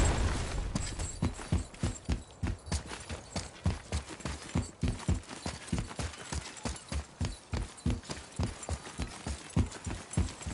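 Horse hooves clip-clop in a steady walking rhythm on a hard surface, loud and close for the whole stretch, with no voices.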